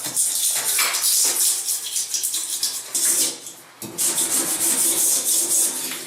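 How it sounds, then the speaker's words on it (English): Scraper rubbing and rasping steadily along the edges of a porcelain bathtub, close and loud, continuous strokes with a brief dip partway through. "I'm going to get a scraper and make sure I get all the edges here."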